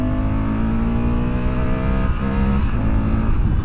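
The engine of a 2024 Honda Africa Twin motorcycle runs steadily close by, its exhaust giving a continuous throaty drone that dips and rises slightly in pitch midway through, with no voices over it.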